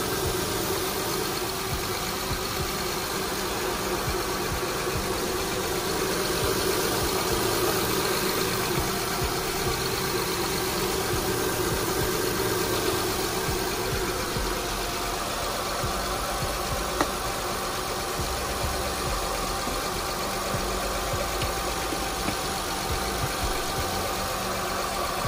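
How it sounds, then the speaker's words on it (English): A 2005 Honda Accord V6 idles steadily in a garage after a timing belt and oil pump reseal job, a continuous even hum with no talking. "So we have the vehicle running."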